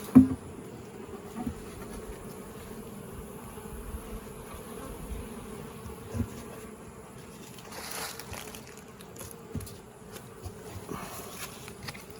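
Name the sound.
honeybees buzzing at an open hive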